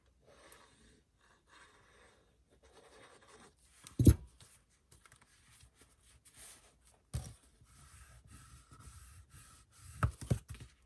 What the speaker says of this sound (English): And then we'll just fold that down and glue that down